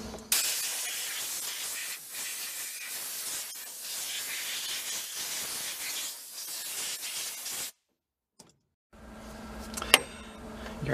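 Compressed air blasts debris out of a new mini truck's engine bay, a loud continuous hiss lasting several seconds before cutting to silence, followed by a short quieter burst and some clatter.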